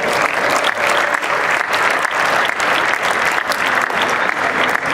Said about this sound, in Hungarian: Ezt meg szeretném köszönni Pellet Sanyinak, egy nagy tapsot érte